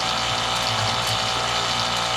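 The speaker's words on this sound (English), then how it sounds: "turn the pump off" An engine water pump runs in a steady whoosh, with water rushing continuously, during work on a cracked marine engine block.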